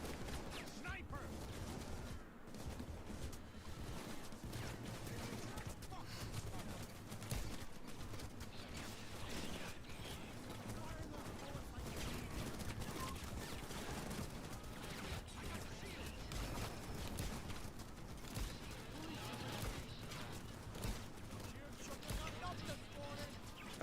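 Video game gunfire crackles in dense bursts throughout, a steady rattle of shots layered with chaotic ambient noise and a talking voice.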